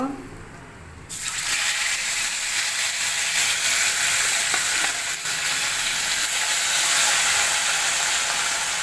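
Rohu fish pieces hit hot oil in a wok with a sudden loud sizzle that starts about a second in and then holds as a strong, steady frying hiss with occasional scrapes.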